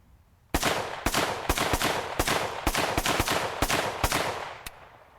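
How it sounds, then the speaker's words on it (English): Rapid gunfire from a Century Arms C308 rifle: a quick string of about ten loud, sharp shots at slightly uneven intervals, each with a short ringing tail, fired close by with no talking. "When you start rapid firing this firearm, it gets hot fast."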